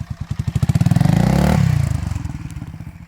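An Aprilia Tuareg 350cc motorcycle engine revs up from a choppy, pulsing idle into a loud sustained roar, then eases back down to a throbbing beat, close by and alone.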